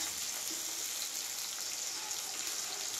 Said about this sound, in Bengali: তেল গরম হয়ে গেছে, এবার আমি পেঁয়াজ দেব। পেঁয়াজটাকে এবারে লাল লাল করে আমি ভাজবো